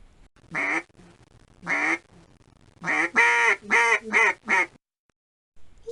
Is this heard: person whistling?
no